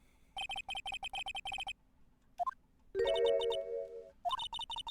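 A ringing transceiver in the Phoenix Wright: Ace Attorney: Justice for All game, heard as rapid electronic ring bursts in two clusters, with short rising chime tones and a sustained synth tone between them, and no talk.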